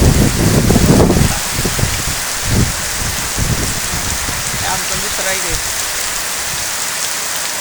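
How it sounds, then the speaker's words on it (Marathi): Heavy monsoon rain pours steadily across a village in Velapur, loudest in the first second and then a dense even hiss, with a voice speaking briefly over it. "धुमाकूळ चालू आहे पावसाचा."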